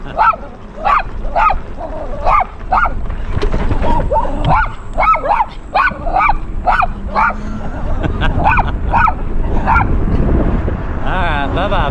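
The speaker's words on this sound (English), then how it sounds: "Hello, little doggy." A small dog barks in quick repeated yaps and yips on a West Virginia street, close and loud, with a voice and outdoor background noise around it.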